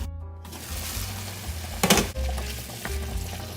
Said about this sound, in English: My ground beef is cooking.